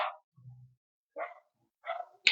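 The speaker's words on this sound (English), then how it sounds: "We've got our little Chihuahua dogs going on around us." Little Chihuahua dogs bark nearby in four short, sharp yaps separated by gaps of silence, one lower and softer, the others higher and clear.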